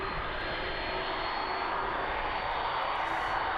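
A cargo jet departing East Midlands Airport in the evening, its engines a loud, steady, broadband roar held throughout with no talk.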